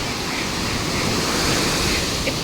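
Large sea waves crash onto the beach at Puri in a dense, continuous roar of surf, loud and close, with no gaps between breakers.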